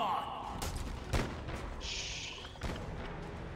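Gunfire from a Dead Space 3 boss fight, heard as a few sharp shots with a busy game soundscape behind them. The shots sit at moderate loudness amid ongoing background noise.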